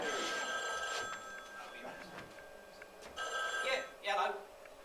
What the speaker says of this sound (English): Oh, hang on, it's my phone.